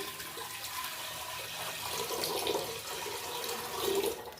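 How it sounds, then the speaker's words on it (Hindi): Water runs steadily into a metal pressure cooker, a continuous splashing pour that swells slightly toward the end, with no voices. "तो यहाँ पे हमने चढ़ा दिया कुकर में डालेंगे पानी"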